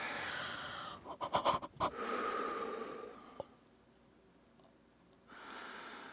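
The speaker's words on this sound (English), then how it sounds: "The heavy breathing." Heavy breathing from the Linda Hyde: Vampire Mansion video game: a run of loud, rapid panting bursts followed by steadier breaths, then a quieter stretch.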